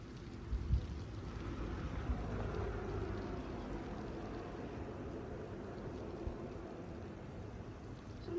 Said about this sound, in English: So the wind has picked up.